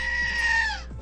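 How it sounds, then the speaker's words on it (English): A screaming goat sound effect plays as one loud, close, drawn-out bleat that falls in pitch and fades near the end. "screaming goat action there."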